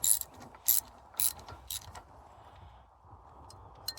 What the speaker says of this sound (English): put quite a bit of pressure on that through bolt, and start screwing.